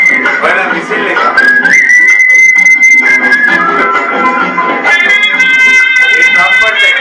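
A whistle plays a bright, sustained melodic line that bends between held notes as the lead over a busy musical backing, staying loud and upfront throughout.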